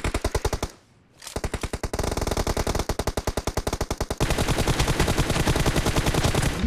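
Sustained automatic gunfire from a BGMI match rattles in long, evenly spaced rapid bursts, loud and close, with a brief pause before firing resumes and grows denser toward the end.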